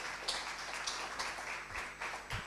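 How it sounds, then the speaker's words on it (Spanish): Faint, steady applause from a conference audience at an international congress on the Jesuit Guaraní missions, greeting a doctor after his talk. The clapping holds as an even wash with small swells and no voices over it. "Fuerte aplauso para el doctor Jorge Villalobos"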